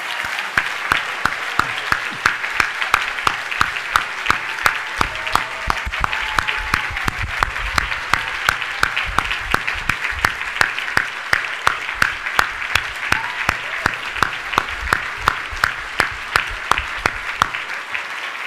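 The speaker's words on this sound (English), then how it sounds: "I think it's time for a big round of applause." Applause fills the room at a school recognition ceremony. A crowd claps steadily for the full stretch, with sharp individual claps standing out near the microphone against the broader wash of hands.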